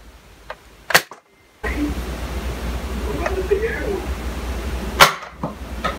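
A Nerf Han Solo DL-44 blaster fires sharp, snappy shots: one short crack near the start and another loud pop toward the end, with ambient room noise in between and no talking.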